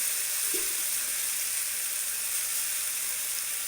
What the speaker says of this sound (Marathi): हा मसाला टाकते मी त्याच्यानंतर मी हे त्याला हलवून घेते